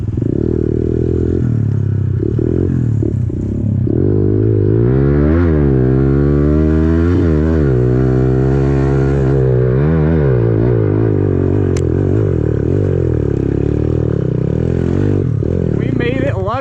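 A small-tired pit bike engine lugs in third gear up a hill of big loose gravel, its note rising and falling steadily and loudly throughout, with gravel clatter beneath.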